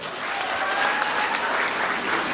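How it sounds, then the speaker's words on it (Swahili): An audience bursts into applause, a dense, sustained clapping that fills the whole short stretch at a steady loudness. "Wapi makofi ya Baby Top?"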